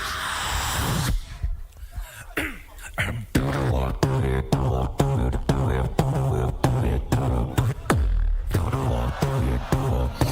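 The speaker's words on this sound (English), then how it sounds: "You can hear the audio of the crowd because it is considerably louder." Beatbox battle at the GBB2025 championship, loud live performance with rapid rhythmic percussive mouth sounds, hard kick-like hits and bass hums repeating through the whole stretch, with a crowd audible in the background.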